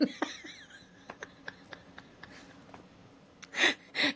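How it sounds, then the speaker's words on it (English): Quiet sniffing and snuffling close by from a dog sniffing a tambourine, with faint jingling rattles, followed by two louder bursts of breathy snorting near the end. "my dog was sniffing a tambourine"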